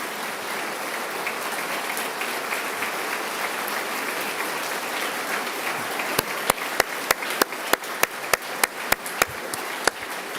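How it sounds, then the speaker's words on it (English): Applause from the audience at a state of the state address, a steady wash of clapping from a large crowd in a hall, with a few sharp, distinct claps standing out toward the end. "Let's give them a round of applause."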